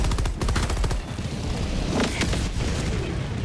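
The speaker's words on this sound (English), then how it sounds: "Requesting orbital strike." Orbital strike bombardment in Helldivers 2, a dense, continuous barrage of loud booms and rapid blasts that rumbles throughout, with no break between impacts.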